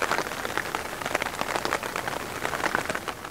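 Steady rain patters on surfaces in snow-capped mountains, a dense, even hiss of drops close by with no voices.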